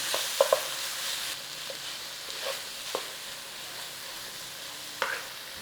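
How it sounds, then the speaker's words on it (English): Tomato paste cooking in a hot pan hisses in a continuous close sizzle, while a utensil stirs it and gives a few sharp scrapes and taps spaced irregularly, with no talk. "We put it in now, we start to cook it, it deepens the flavour. Nice little stir around."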